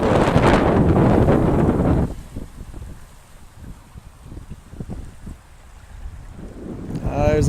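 Strong beach wind buffets the microphone in heavy rumbling gusts near the shore, dropping to a quieter lull with soft crackles before another gust hits at the end.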